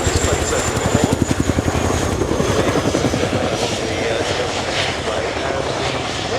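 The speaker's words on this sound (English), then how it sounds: "The Chinook is just going to reposition down the airfield for a final look at this very impressive HC.5 model." An RAF Chinook HC.5 twin-rotor helicopter repositioning down an airfield during a flying display, its loud rhythmic blade thump and engine whine filling the air, with a commentator talking over it.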